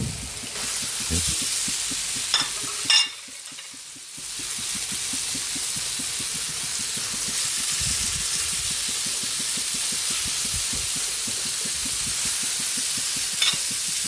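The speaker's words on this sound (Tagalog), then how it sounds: "Lagay na natin yung ating pork giniling." Ground pork sizzles loudly and continuously in a hot pan, a dense crackling hiss with a brief lull and a couple of sharp clatters near the start, no talking.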